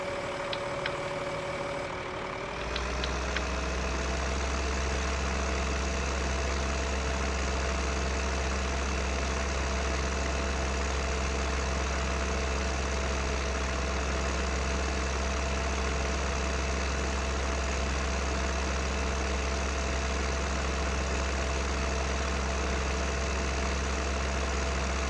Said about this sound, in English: We'll get the harvester back over to the main yard